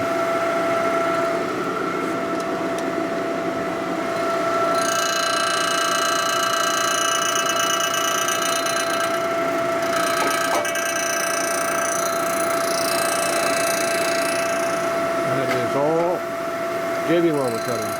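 A power tool grinds through JB Weld on an aluminum transmission part of a 1961 Harley-Davidson Sportster XLCH, a loud, steady whine with shifting pitch as the cut bites, sustained throughout.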